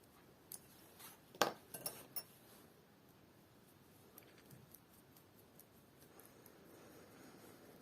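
Metal size 4 knitting needles are swapped out, producing a few faint, quiet clinks and taps clustered early on, followed by softer scattered ticks in a hushed room.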